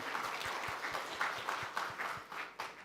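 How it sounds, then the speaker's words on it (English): A conference audience gives a round of applause for two speakers, steady broadband clapping from a seated crowd that holds at an even level, with a few sharper individual claps standing out. "a big round of applause for our two speakers"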